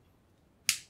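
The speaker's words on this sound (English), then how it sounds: "Remove the magazine." A magazine drops free from a Beretta Cheetah 84BB pistol with a single sharp metallic click, close and brief, after a moment of near silence.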